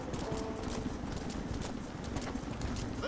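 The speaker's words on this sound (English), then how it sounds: "it's so hard to control the horse sometimes" Horse hooves clip-clopping at a steady trotting rhythm in the video game Red Dead Redemption, close and continuous under a constant bed of ambient outdoor noise, with no talk.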